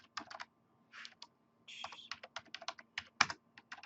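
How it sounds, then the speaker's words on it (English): Someone types on a computer keyboard while configuring a small network in Cisco Packet Tracer, a quick irregular run of close, crisp key clicks with brief pauses and no talking. "I'm typing in crazy stuff."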